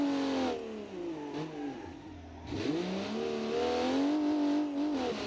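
A 1960s sports car in a racing video game revs hard on a hot lap, the engine note climbing through short gears with quick shifts and a dip before surging loud again.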